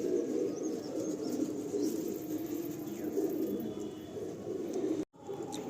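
Pigeons at a Nepalganj pigeon sale give off a steady, continuous low cooing that fills the whole stretch, briefly cutting out near the end before resuming.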